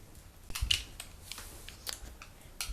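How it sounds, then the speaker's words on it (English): A candle being cut into small chunks for homemade skate wax: a few faint, sparse crisp snips and cuts, quiet and close, separated by soft handling noise, with no talking. "you're going to want to cut up your candle"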